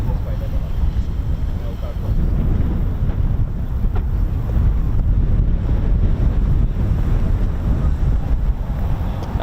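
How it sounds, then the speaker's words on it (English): Strong, gusty crosswind buffets the microphone on an open RAF airfield, a loud continuous low roar that swells and surges for the whole stretch, with a voice briefly present underneath. "there's some really strong gusts coming"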